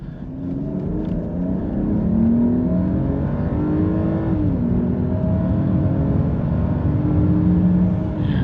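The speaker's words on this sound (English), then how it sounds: "I can definitely hear a slight blow off from the engine." A 2020 Mercedes-Benz GLS 450 4Matic SUV engine hums and pulls steadily as it accelerates, the drone rising in pitch, with a brief shift and slight turbo blow-off partway through; heard from inside the cabin.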